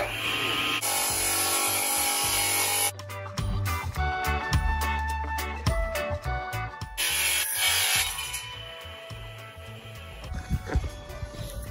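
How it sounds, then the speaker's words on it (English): An angle grinder cuts metal during tractor and cutter repair work, its loud, high whine running in two long bursts with clanking and scraping of metal in the pause between. "Yeah, get the grinder, cut them off."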